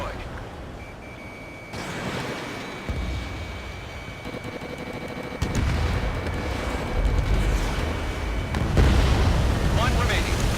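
A destroyed enemy bomber blows up in the jet combat game Ace Combat 7, with heavy rumbling booms and bursts stacking over constant engine roar and a steady warning tone, while radio voices talk over it.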